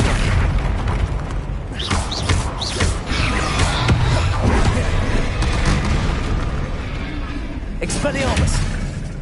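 Repeated booming spell blasts of Bombarda and similar curses in the game Hogwarts Legacy, heavy and continuous with shouted spell names and other voices over the din.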